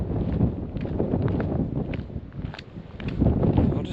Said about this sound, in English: It's just that bloody wind. It's so windy.